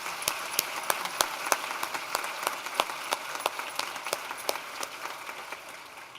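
Sustained audience applause for a conference panel at the close of a session, dense steady clapping from a room of people with a few sharper nearby claps, slowly thinning toward the end.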